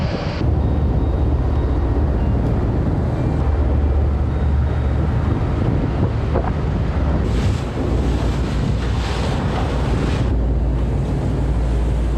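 Strong wind buffets the microphone on the upper deck of a ferry off Croatia while waves and surf rush steadily below, a loud continuous roar with gusty swells and no voices.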